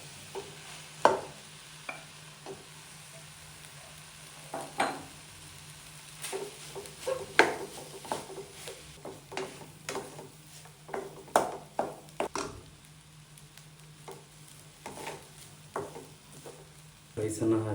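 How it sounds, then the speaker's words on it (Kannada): A spoon scraping and stirring cooked rice into masala chitranna in a pan, giving a run of irregular soft scrapes and taps with a faint sizzle underneath. "ಸೊ 1 ಬೌಲ್ ರೈಸನ್ನು ಮಿಕ್ಸ್ ಮಾಡ್ತಾ ಇದ್ದೇನೆ."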